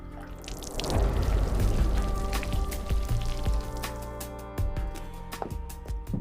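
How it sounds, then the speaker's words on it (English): A foley artist makes rain falling on an umbrella, producing a dense close patter of drops that swells early on, then thins into scattered taps and drips. "Do some of the rain on the umbrella."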